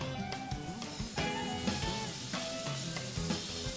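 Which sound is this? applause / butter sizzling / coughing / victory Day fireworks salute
butter sizzling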